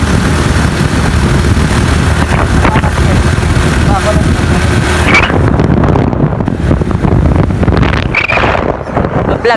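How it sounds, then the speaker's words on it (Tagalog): Motorcycle riding on the road, with a steady close engine rumble buried under heavy wind buffeting against the microphone, fairly loud throughout and easing toward the end. "Vlog kami habang nagmo-motor guys."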